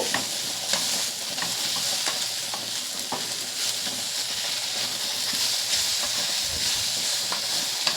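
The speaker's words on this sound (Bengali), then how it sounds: "টমেটোটা দিয়ে আবারও খানিকটা নেড়ে নেব" Three tomatoes are stirred in a frying pan with gourd and egg, a continuous hissing sizzle with repeated spatula scrapes and clinks, near and steady, without speech.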